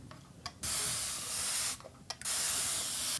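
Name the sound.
spray bottle spraying water on a paint palette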